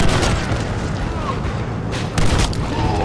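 Shotgun blasts in Red Dead Redemption: Undead Nightmare on Xbox 360, heavy booming shots set against dense game noise, with a sharp blast near the end.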